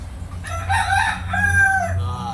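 A rooster crows once in a long, wavering call at close range, with no talk over it and a low steady hum underneath.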